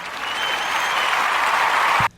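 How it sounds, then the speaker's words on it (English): A small audience gives a brief, dense round of applause, loud and even throughout before cutting off abruptly. "I need a round of applause real quick."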